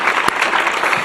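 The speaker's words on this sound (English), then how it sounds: "Please give yourselves a round of applause." Dense, steady clapping from a crowd at a college teacher appreciation night, loud and close, a continuous wash of applause with no pauses.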